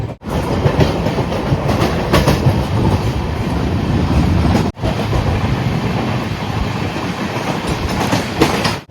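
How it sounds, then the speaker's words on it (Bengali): Howrah Puri Superfast Express running at high speed, a loud continuous rumble and rattle of wheels on track from inside the coach, with a brief dropout midway and no talk. "ট্রেন এখন আমাদের মোটামুটি ভালোই টানা শুরু করেছে"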